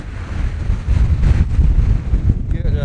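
Strong wind buffets the microphone on the east side of the Amstelmeer, a loud, continuous low rumble and roar with gusting swells through the whole stretch.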